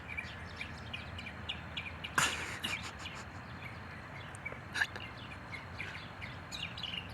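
A finch and other birds call in scattered bright chirps and tweets over steady outdoor background noise, with one louder, closer burst standing out briefly among fainter calls.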